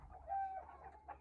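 Native village chickens kept in a coop give faint, soft clucks and a brief higher call against a quiet low hum.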